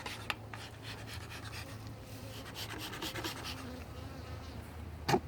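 Honeybees buzz softly and continuously around an opened five-frame nuc box, a faint steady drone with scattered rustles and a sharp knock or scrape near the end.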